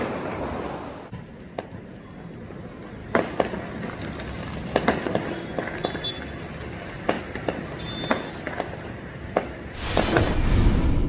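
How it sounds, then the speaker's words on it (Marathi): Firecrackers and fireworks crackle and pop at a distance at night in Khed, near Pune, over steady background noise, with sharp bursts scattered throughout and a denser burst near the end. "ठिकठिकाणी रात्री फटाक्यांची अशी आतिषबाजी पाहावयास मिळत होती"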